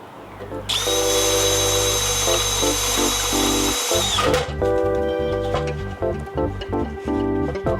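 A power drill with a 3/8-inch bit whines loudly at high speed for a few seconds, then its pitch drops and it keeps grinding as the bit bites into metal on a CFMOTO Papio CL.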